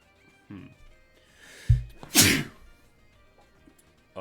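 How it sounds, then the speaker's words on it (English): A single loud sneeze from a man streaming a Pokémon card game, a short sharp burst preceded by a brief inhale, alone with faint background before and after. "If not, at least I warned you that I was going to sneeze."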